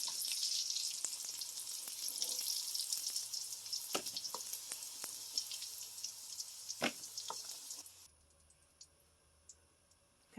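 Sausage and bacon fry in a skillet with a loud, steady sizzle that is broken by sharp clicks and pops. The sizzle fades to a quieter hiss near the end, and no one speaks.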